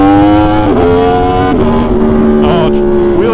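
An Aprilia motorcycle engine, smooth like an inline four, revs up and settles repeatedly, with rising and falling harmonic tones loud and close throughout.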